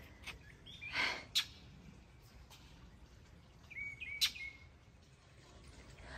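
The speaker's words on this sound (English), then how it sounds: "The birds are really excited, by the way." Faint birds chirp in a few short scattered calls over a soft outdoor background hiss, with one sharp tweet standing out.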